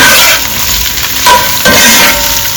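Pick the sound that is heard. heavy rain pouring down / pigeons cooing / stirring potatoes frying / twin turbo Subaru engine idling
stirring potatoes frying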